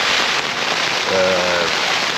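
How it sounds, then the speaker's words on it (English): Heavy rain pours down steadily on a wild camping spot, a dense, continuous hiss close by, with a brief tonal hum partway through. "So yeah, I can't really do much about the rain."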